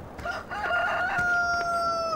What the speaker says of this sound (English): Oh, what's up, Rooster?